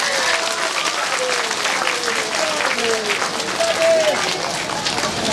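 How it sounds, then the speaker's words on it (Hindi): Loud, sustained applause from an audience welcoming guests at a Srimad Bhagwatam katha gathering in Salempur, Samastipur, dense clapping holding steady throughout with faint tonal sounds in the background. "संगीत स्वर में इनका अभिनंदन करने के लिए जोरदार ताली से इनका स्वागत है"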